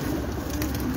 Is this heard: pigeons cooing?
yes